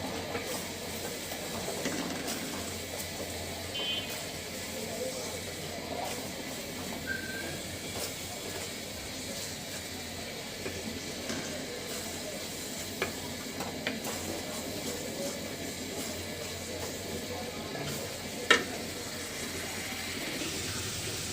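Ginger and garlic spice paste frying in a pan while being stirred, a quiet continuous sizzle with soft scraping and occasional small clicks of the utensil, no talking.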